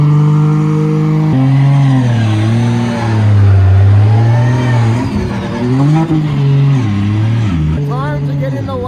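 A 2JZ-engined drift wagon warms its differential, the engine note loud and close, holding steady then rising and falling through repeated revs and throttle changes.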